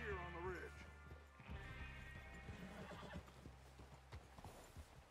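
Horse in Red Dead Redemption 2 gives a loud, close whinny at the start, followed by clip-clopping hooves and a crash, with people talking over it.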